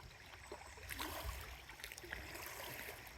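Gentle flowing water from a stream outdoors, a soft continuous babble with occasional small splashes, fairly quiet and unaccompanied by talk.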